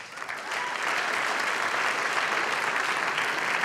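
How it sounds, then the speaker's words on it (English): A large audience applauding steadily, dense clapping that swells quickly and holds at a full, even level throughout. "Please give yourselves a quick round of applause."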